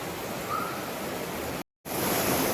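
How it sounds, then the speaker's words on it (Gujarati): Steady, dense wash of heavy monsoon rain pouring down close by, a continuous broadband hiss with a brief total dropout near the middle before it resumes. "અવાજ ઉપરથી ખ્યાલ આવી જ ગયો હશે તમને કેટલો ધોધમાર વરસાદ આવે છે"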